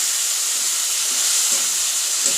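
Spice paste fries in oil for a Katla fish head curry, a steady close sizzle and hiss with faint stirring.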